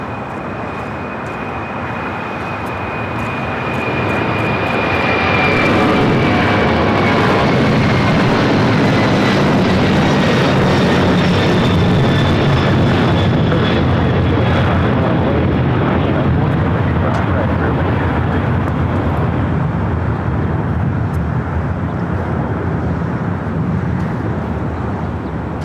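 A Boeing 747-400 freighter departs LAX for Cincinnati, its four engines building from a distant whine into a loud, sustained roar with a falling high tone. The thundering rumble persists to the end.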